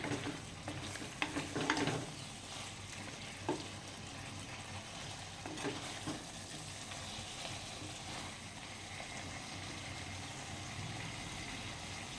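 Chicken gravy being stirred in a pan, a soft continuous simmering sizzle with occasional scrapes of the spoon early on, fairly quiet and without talk.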